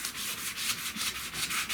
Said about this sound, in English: So I'm sanding with 600